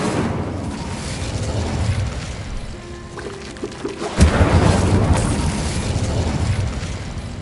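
A fire spell, Incendio, is cast in a wizard video game: a low rushing rumble swells, then a heavy whooshing burst of flame erupts midway and roars on before slowly fading.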